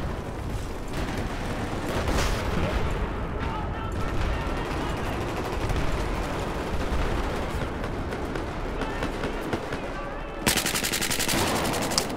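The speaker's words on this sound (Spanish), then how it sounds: "I'm shooting dead bodies." Sustained rapid automatic gunfire from a video game, a dense continuous stream of shots lasting throughout, loud and close, with a sharper burst near the end.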